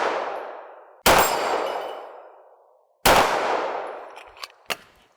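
Two sharp pistol shots about two seconds apart on an outdoor range, each ringing out with a long decaying tail, followed by a pair of fainter metallic clangs from distant steel targets being hit.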